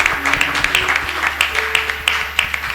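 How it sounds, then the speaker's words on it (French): A church congregation applauds for Jesus, a steady, dense patter of many hands clapping over a low background hum. "On acclame encore Jésus."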